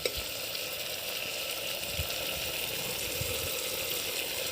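Curry leaves frying in oil in a pot for country chicken soup, giving a steady, even sizzle and crackle with a few faint pops, close by and continuous with no voices.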